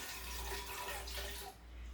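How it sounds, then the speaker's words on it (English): Water pours steadily into a Ninja blender for over a second, a close, splashy rush that then tapers off. "I'm going to add some water."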